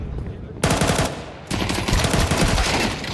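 UMP submachine gun in Counter-Strike 2 during a tournament quarterfinal match, firing loud rapid bursts in two close strings, with faint commentary underneath.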